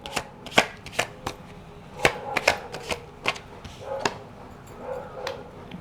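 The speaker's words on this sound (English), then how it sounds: "let me pull a card on this High Priestess and see what that's about" Tarot cards being shuffled and drawn by hand, heard up close as a series of sharp, crisp riffles and snaps at an uneven rhythm, with a few softer rustles in between.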